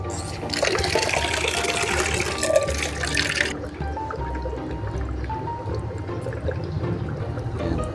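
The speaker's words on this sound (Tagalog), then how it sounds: "Lalagyan lang natin ng konting tubig to." Water pours in a steady rush into a container for a few seconds for a betta fish salt bath, then stops, leaving quieter trickling and background noise.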